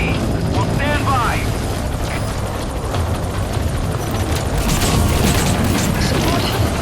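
In Metal Gear Solid 5: The Phantom Pain, a support helicopter touches down at the landing zone, its rotor thumping steadily under a dense wash of game noise and spoken radio chatter.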